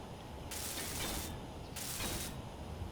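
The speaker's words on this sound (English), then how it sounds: "Let's go ahead and weld up. I'm gonna weld these guys up." Block welding in Space Engineers comes through as two bright hissing, crackling bursts, each about a second long, separated by a short pause over a low steady background rumble.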